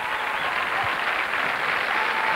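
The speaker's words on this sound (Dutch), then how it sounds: "En een applaus vanuit de studio voor Menno en Margriet." Studio audience applause on a Dutch TV dating show, a continuous, even roar of many hands clapping at steady loudness with no speech over it.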